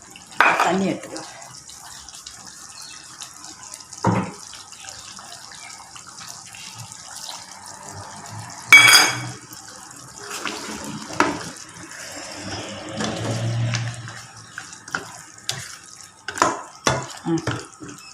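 Water splashes into a pot of mutton perattal with potatoes being cooked in a home kitchen, coming as brief, fairly soft pours among quiet clinks and kitchen noise, with a voice faintly present.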